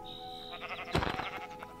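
Minecraft sheep bleat in-game, a single wavering, nasal bleat near the middle, loud and close, with a steady tone running faintly underneath and no talking.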